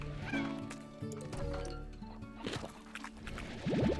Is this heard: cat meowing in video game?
yes